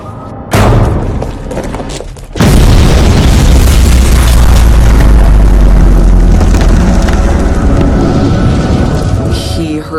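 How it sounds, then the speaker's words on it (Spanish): A brief sharp bang comes first, followed by a massive deep explosion that roars on as a loud, sustained rumble of debris and blast noise. "Oyó la explosión"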